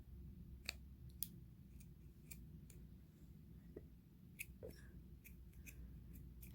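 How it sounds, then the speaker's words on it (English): Scissors snipping yarn for finger knitting: a run of quiet, crisp clicks and small snips spaced unevenly, close up over a faint steady background hiss. "you just cut the yarn maybe about right here"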